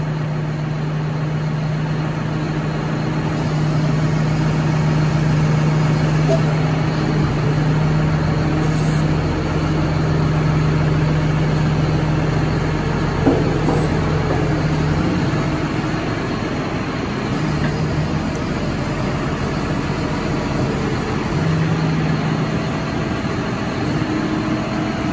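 A tractor engine runs steadily while a farm implement is hitched to it, a loud, constant low rumble with a droning hum, occasional faint clanks and no talking.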